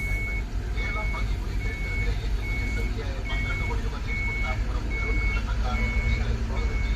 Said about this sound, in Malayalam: അപ്പോൾ നമ്മുടെ വണ്ടി ഇതാ വന്നുകൊണ്ടിരിക്കുന്നുണ്ട്.